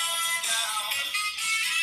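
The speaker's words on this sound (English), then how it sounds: "That's my phone." A mobile phone ringtone plays steadily and loudly with a bright, sustained electronic melody, running without talk for about two seconds.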